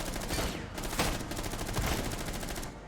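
Rapid video game gunfire, a dense run of shots fired close together with a couple of louder bursts, continuous for a few seconds with no talk.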